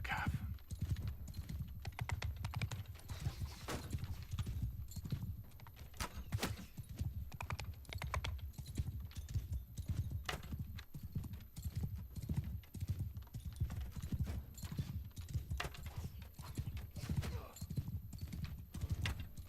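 Cavalry horses clatter in a Warhammer video game, a dense, continuous drumming of hooves under a wash of battle noise, steady and fairly faint throughout.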